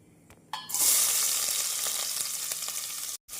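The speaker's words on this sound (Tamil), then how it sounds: "நன்றாக பொரியவும் நாம் நறுக்கிய வெங்காயத்தை சேர்த்து விடலாம்" Loud, steady sizzling of onions dropped into hot oil, starting abruptly and crackling continuously, with a brief pause near the end.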